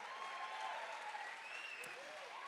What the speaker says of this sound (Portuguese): se é para aplaudir, aplaude Jesus e aplaude forte